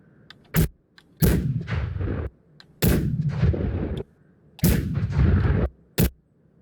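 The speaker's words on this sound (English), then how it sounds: "Cannon fire." Several heavy cannon booms from a horn sound effect in the BeamNG video game, loud and close, each followed by a rumbling tail, fired at irregular intervals with short sharp cracks between.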